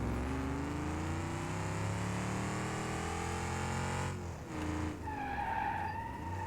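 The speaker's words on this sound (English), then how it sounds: "It instantly locks the brakes when you get onto it." Locked-brake skid of a car in the BeamNG driving game, a loud sustained tire screech with engine drone, steady for about four seconds before breaking into wavering squeals and a rising whine.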